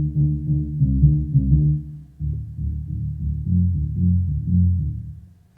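A sampled keys sound played back from an MPC sampler: soft, warm low chords sounding up close in a gentle rhythm, then fading out at the end.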